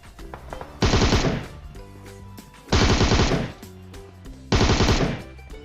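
Three loud bursts of rapid automatic gunfire from a bot in the PUBG Mobile video game, each lasting about a second and separated by quieter in-game ambience.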